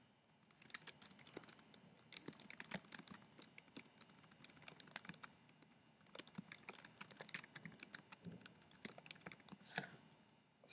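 Quick, irregular keystrokes on a computer keyboard clatter alone in a quiet room, close and fairly soft, with short pauses between bursts of typing.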